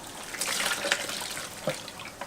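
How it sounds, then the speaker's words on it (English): Hot water is poured off a pan of baked zucchini boats, a close, steady splashing trickle with a few brief spatters, alone without talk. "Carefully drain the water out."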